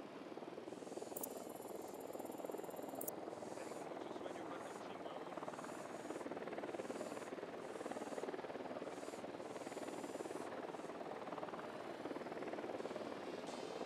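Enemy helicopter on patrol in the game Ghost Recon Wildlands, a steady whirring rotor drone that holds throughout at moderate distance, with faint voices and brief electronic beeps over it.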